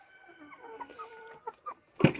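Young backyard hens that have just started laying cluck softly at close range, a few low murmuring clucks followed by one louder, sharper squawk at the end.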